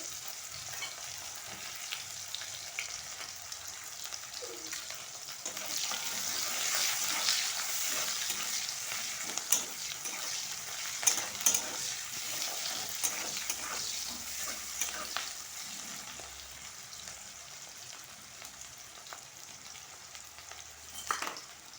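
Whole garam masala, bay leaf and chopped onions fry in a pan, a steady bright sizzle running throughout with occasional stirring clicks and scrapes, fairly quiet and without talk.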